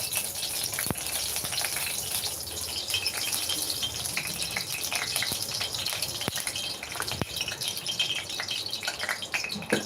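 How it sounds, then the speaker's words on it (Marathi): Two ladles of oil go into a hot kadai, producing a continuous hissing, crackling sizzle with scattered sharp pops, steady and fairly close, without talk. "आता कढई छान गरम झालेली आहे यामध्ये बघा दोन पळी आपण आता तेल टाकणार आहोत"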